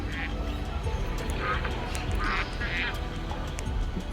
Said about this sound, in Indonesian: bebek gitu.